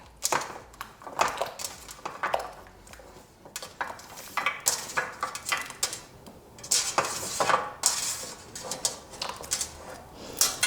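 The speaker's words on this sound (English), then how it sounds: "So pop our gnocchi into the Thermomix." Ricotta gnocchi tipped into a Thermomix bowl makes a run of close, irregular clatters and knocks from utensils and the container, with short gaps between bursts and no talk.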